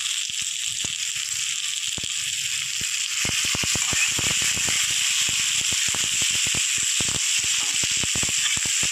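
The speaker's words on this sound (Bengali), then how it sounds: "ভালো করে আমি মশলাটা একটু হালকা করে একটু লালচে লালচে ভেজে নেব।" Spice paste with green chillies sizzles and hisses steadily in a hot pan for a steamed Bombay duck dish, with a loud continuous fry punctuated by many small crackles and pops.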